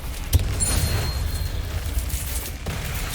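A Confringo explosion spell in the Hogwarts Legacy game strikes with a sudden close thump, then leaves a sustained rumbling boom under a thin high whine for a few seconds.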